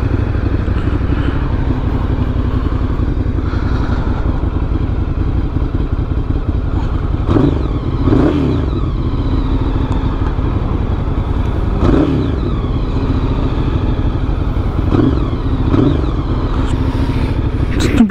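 A Ducati Monster 1100 EVO motorcycle engine idles and runs unevenly, with rattling clatter and occasional surging revs close by.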